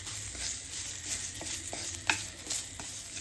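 Curry leaves roasting in a pan while being made into homemade sambhar powder, with a soft continuous sizzle and the occasional scrape and clink of stirring.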